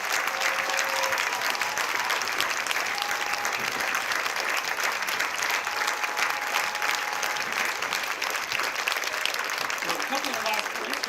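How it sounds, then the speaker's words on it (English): Prolonged crowd applause for the Strongsville Marching Mustangs high school marching band, a thick unbroken roar of clapping lasting about eleven seconds, with voices mixed faintly into the crowd noise. "Keep that applause going."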